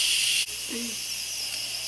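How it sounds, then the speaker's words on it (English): An Instant Pot on quick release lets out steam as a steady, bright hiss. It is loud at first, then dips abruptly and carries on a little softer. "I'm gonna go ahead and do a quick release and let out of the steam out."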